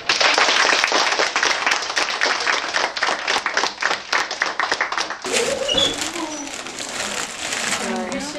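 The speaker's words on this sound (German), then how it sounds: "Ist das ein Applaus wert?" An audience applauds a winning school class at a German Realschule, with brisk, dense clapping that runs steadily for several seconds, then gives way to voices and background sounds.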